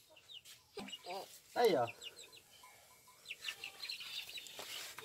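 A baby chick in a backyard gives a few high, quick peeps, with a louder burst in the middle, while people talk softly nearby.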